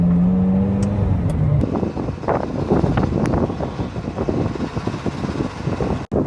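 A Ferrari F355 being driven on the way to a gas station, its engine note rising briefly at the start and then giving way to steady road rumble and wind buffeting, loud and close, with no talking.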